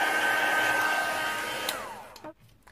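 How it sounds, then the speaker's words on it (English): A heat gun blows a steady, loud stream of hot air over wet white paint splats on a handmade card, then cuts off near the end, leaving a brief fading whine and quiet room tone. "I'm just going to pop on my heat gun to dry that off with"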